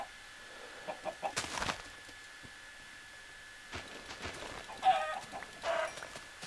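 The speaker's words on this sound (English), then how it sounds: "Chickens." Minecraft chickens clucking in a snowy game area, several short soft clucks in small bursts with a quiet gap between them, with no talking.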